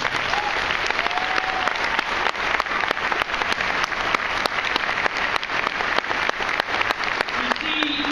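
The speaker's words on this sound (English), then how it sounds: "Everyone, please give them a huge round of applause." An audience at a high school commencement applauds the graduating seniors, sustained dense clapping from a large crowd that stays loud and even from start to finish.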